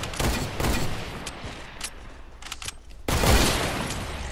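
Sniper rifle shots in a no-scope shooter game, a few sharp broadband cracks over a dense din of distant gunfire, with a loud burst near the end.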